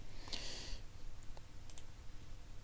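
A computer mouse clicking twice in quick succession, faint and close, the crisp clicks standing alone over quiet room tone, with a couple of softer ticks afterward.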